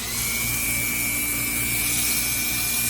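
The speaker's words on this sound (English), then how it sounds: "take a brass brush and turn my Dremel on" A Dremel rotary tool fitted with a wood-carving bit spins against a brass brush to clear its clogged flutes, making a steady high whine with a rough, continuous brushing hiss for the whole stretch.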